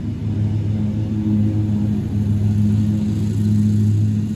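A lawn mower engine drones steadily as grandpa cuts grass outside on a porch-side afternoon, a loud, even mid-pitched hum that holds without a break.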